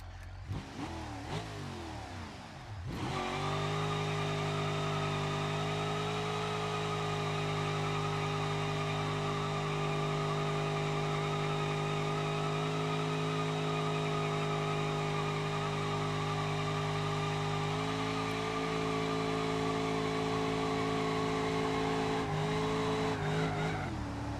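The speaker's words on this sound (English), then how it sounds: "That was good burnouts for distance." A car in the BeamNG driving game doing a long, sustained burnout: an engine holding a high, steady roar under loud tire squeal for over twenty seconds, after a brief revving start, with no talk.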